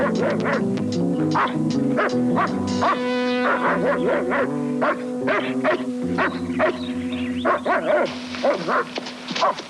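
Dog barks from a 1972 film scene in the woods, several sharp woofs scattered through a dense bed of music and background noise, fairly close but partly masked.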